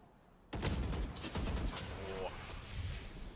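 Gunfire in the Valorant video game, a sudden burst of rapid shots starting after a short quiet stretch and rattling on densely, loud and close, under an excited caster's talk.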